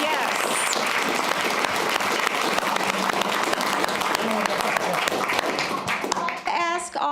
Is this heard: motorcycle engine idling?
no